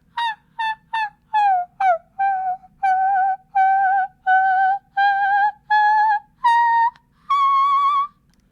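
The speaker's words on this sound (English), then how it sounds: "That's your whistle voice." A singer's high whistle-register voice, produced as a series of about twelve short piercing squeaks that lengthen into sustained held notes, clear and alone with no backing.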